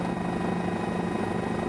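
A police helicopter overhead during a car chase, a loud continuous rotor drone with steady rapid chopping, filling the whole short stretch.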